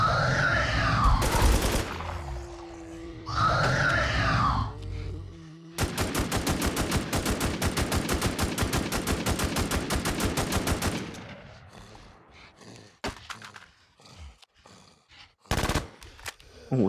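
An IMI TAR-21 assault rifle fires in the Infestation shooter game. A few single shots and short bursts come first, then a long, steady, rapid automatic burst that lasts several seconds, followed by scattered clicks and a final shot.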